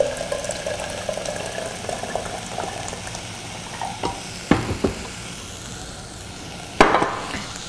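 Thick Mexican mole simmers in a pan with hot water added, bubbling and sputtering steadily close by, broken by a few sharper scraping stirs.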